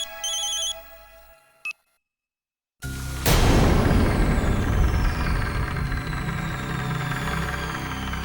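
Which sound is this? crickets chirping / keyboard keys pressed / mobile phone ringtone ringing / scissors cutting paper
mobile phone ringtone ringing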